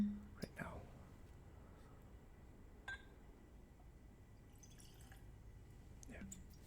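Balcones Lineage Texas Single Malt whiskey poured into a glass: a faint, brief trickle followed by soft drips and small clinks, recorded close and quiet, with whispering around it.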